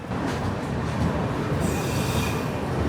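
The Mithila Express, a passenger train, pulls out of a station after a long halt, with a continuous rumble of wheels and carriages close by and a thin metallic squeal rising partway through.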